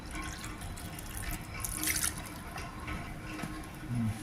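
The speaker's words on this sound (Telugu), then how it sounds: "తగినంత నీళ్లు పోసుకోవాలి వాటరు పోసుకొని మిక్స్ చేసుకోవాలి" Water trickles and splashes softly into oats dosa batter for a few seconds, a faint liquid pour with light drips and no talking.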